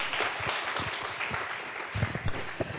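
A church congregation gives a short burst of applause, a dense patter of clapping that rises quickly and then thins out within a few seconds.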